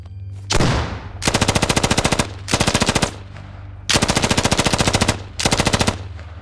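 A SAW light machine gun fires in the video game Squad, loud and close, in several rapid bursts of varying length separated by short pauses, with a sharper single crack at the start.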